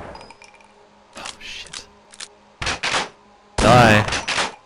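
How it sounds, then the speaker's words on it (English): Shotgun blasts in a video game, a few loud, close bursts spaced apart, with quieter game noise between them. "How many shotgun shells can he take?"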